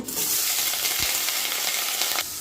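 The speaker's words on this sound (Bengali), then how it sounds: "আলুটা ভালো করে ভেজে নিয়েছি" Potatoes fry in hot oil with a loud, steady, dense sizzle held close, one brief low knock partway through, and the sizzle cutting off abruptly near the end.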